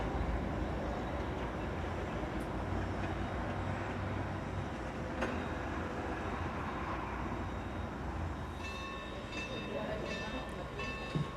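A Strasburg Rail Road passenger train pulls away, a steady broad rumble of rolling cars and locomotive holding throughout, with brief hisses and faint high squeals near the end, close and continuous.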